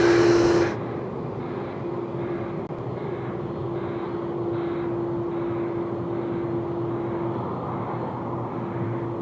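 A Finnair airliner vacating the runway after landing in rain, its engines a steady, loud jet roar with a faint whine, continuous throughout after a brief louder opening hiss of wet spray.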